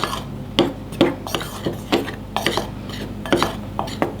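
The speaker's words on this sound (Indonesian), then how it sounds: "kita aduk-aduk sampai merata" Tapioca flour mixture stirred in a bowl, with a spoon scraping and knocking against the sides in a steady, uneven rhythm of close rubbing strokes and light clinks.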